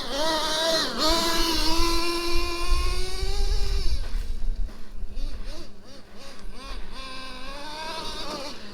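A nitro-powered Traxxas T-Maxx 3.3 RC monster truck engine at about half throttle, a loud buzzing whine rising and falling in pitch, revving close by, then dropping to a rougher, choppier idle.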